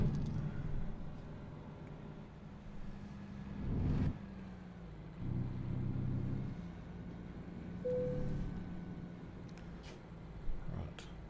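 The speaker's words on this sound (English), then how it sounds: "Right, let's start the engine," A truck engine in American Truck Simulator idles and revs in a low, steady hum, swelling in a few brief surges of acceleration, with someone talking intermittently over it.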